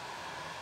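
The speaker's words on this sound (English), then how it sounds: "So I'm gonna dry it a little bit with my heat gun." A heat gun blows a steady, even rush of hot air close by, drying a coat of Dixie Belle paint on a piece of furniture, alone with no talk.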